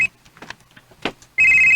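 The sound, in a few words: telephone ringing with incoming call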